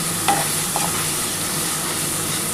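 A spice paste for chicken curry stirred and fried in a pan, a loud, continuous close sizzle with a couple of quick scraping strokes of the spoon early on.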